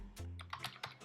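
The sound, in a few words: typing on a computer keyboard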